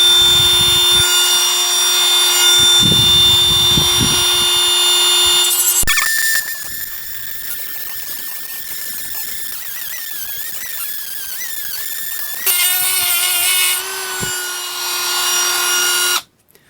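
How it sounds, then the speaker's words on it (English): An angle grinder plunge-cuts into metal while building custom jaws for a load-cell force-testing vise, a loud continuous whine that drops in pitch under load mid-cut and rises again near the end, with no talking. "here's where plunge cutting with one of these grinders gets a little goofy"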